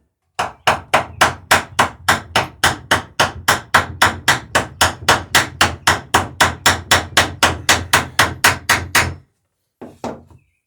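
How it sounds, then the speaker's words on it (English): A hammer drives nails into the bottom boards of a cruising dinghy: a steady run of about two dozen loud, evenly spaced wooden blows, then a short pause and a couple more strikes. "you're nailing into the edge of these bottom boards"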